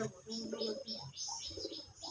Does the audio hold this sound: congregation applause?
no